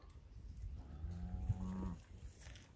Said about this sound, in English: Another Charolais calf's having a feed.